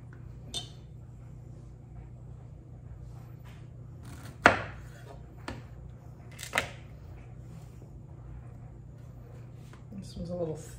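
Knife slicing and trimming zucchini on a cutting board in a home kitchen, a few sharp chopping knocks spaced several seconds apart, close and fairly quiet over a low steady hum.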